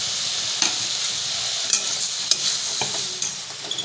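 Food being sautéed and stirred in a pan sizzles steadily up close, with a few sharp scrapes and knocks of a spatula cutting through the hiss.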